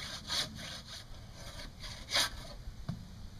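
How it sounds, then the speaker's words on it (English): A hand saw cuts through wood for a raised garden bed in steady back-and-forth strokes, rasping and close, with a sharper louder stroke near the end. "finish the cut off like you saw before"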